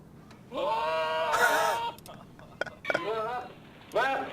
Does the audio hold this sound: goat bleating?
yes